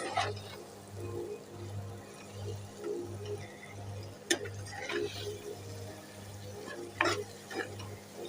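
A spoon stirs a potato and egg mixture cooking in a pan for egg paratha, with a steady low sizzle under soft scraping strokes and a couple of sharper clinks against the pan.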